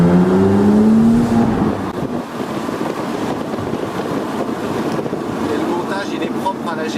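A Porsche 997 MKII Carrera with a SCART exhaust passes through a short V-open tunnel, its engine drone rising and echoing loudly amid rushing wind noise, the pitch sweeping upward early then settling into a steady roar.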